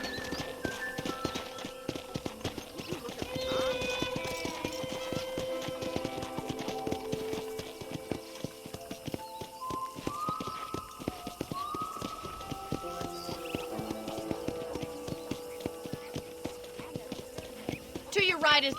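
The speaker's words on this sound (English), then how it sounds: "Okay, let's see if you can still ride a horse." Hooves clip-clop steadily as a horse is ridden in Red Dead Redemption, a quick rhythmic trot beneath game music and a voice talking throughout.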